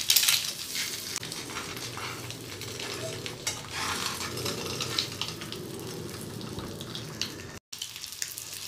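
Eggs fry in a pan over a low flame for egg pepper fry, giving a steady close sizzle broken by stirring and scraping clatter, with a brief cut near the end.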